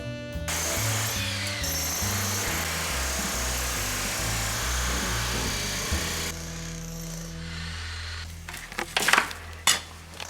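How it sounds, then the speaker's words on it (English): Loud, rapid mechanical hammering and grinding of a light rental jackhammer breaking a concrete floor dominates, then stops, followed by scattered scraping and clanking of debris. "We rented this jackhammer at Home Depot, and it's light."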